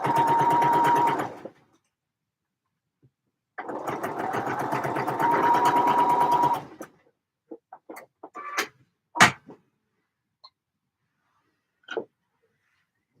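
A home sewing machine stitches in two bursts of steady, rapid whirring, each a few seconds long. Scattered clicks and handling knocks follow in an otherwise quiet room.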